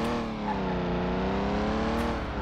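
A race car in Car Mechanic Simulator 2021 spins its wheels and revs hard, the engine whine holding a steady high pitch that climbs slightly, loud and close throughout with no talking.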